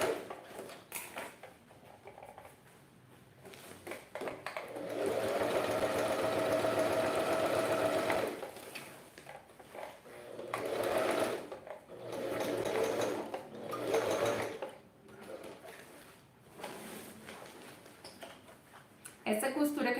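A sewing machine stitches bias binding onto the lining of a wine bottle holder, running in several steady bursts of rapid mechanical stitching separated by pauses, with someone talking over the quieter gaps.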